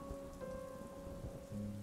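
Steady rain patters on a surface during a sudden downpour, with a low rumble hinting at thunder; the hiss stays even and moderately loud throughout, with no voices.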